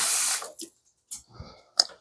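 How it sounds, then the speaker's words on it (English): Warm water runs from a tap into a dog's food bowl in a short hiss that cuts off, followed by a few soft clicks and light splashes, close and quiet, with no voices. "I'm going to put a little bit more warm water in this one"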